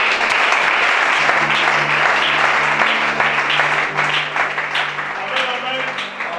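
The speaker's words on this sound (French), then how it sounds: "Acclame le chacun" A church congregation at a deliverance service applauds loudly and continuously, dense clapping filling the room with voices and cheers mixed in underneath.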